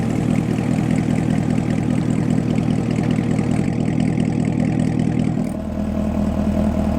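Chevrolet Camaro ZL1 V8 with a Corsa exhaust, a loud, steady, deep idle rumble held close up, easing to a lower, quieter note near the end.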